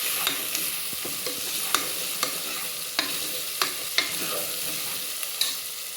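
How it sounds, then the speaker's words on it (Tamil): Ginger garlic paste and curry leaves stirred in a hot pan for vendakkai kaara kuzhambu, a Tamil okra curry: an even, close sizzle with light regular clicks of a spoon on the pan at about one-second intervals, no speech. "போட்டுட்டு நல்லா ஒரு கிளறிடலாம்."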